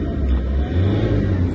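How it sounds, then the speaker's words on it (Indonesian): Toyota Fortuner with a 2KD diesel engine revving up close, a loud, throaty low rumble that swells and eases twice within a short burst. "Ini mesinnya sudah hidup lagi, RPM normal, sudah bisa digas lagi teman-teman."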